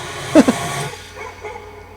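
A dog gives two quick, high yips close by, followed by quieter whimpering sounds over a soft background hiss.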